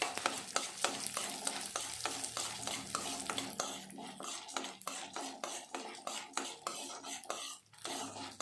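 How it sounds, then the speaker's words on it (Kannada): Chana dal and urad dal fry in oil in a pan on a gas stove, with a steady dense sizzle and repeated scrapes and clinks of a spoon stirring against the metal, close and continuous throughout, no voices. "ಚೆನ್ನಾಗಿ ಎಣ್ಣೆಯಲ್ಲಿ ಫ್ರೈ ಮಾಡ್ಕೊಬೇಕಾಗುತ್ತೆ ತಿರುಗಿಸ್ಕೊಂಡು"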